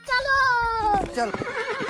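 A horse neighing: a loud, clear whinny that falls in pitch and trails off into shaky, fluttering snorts, close by.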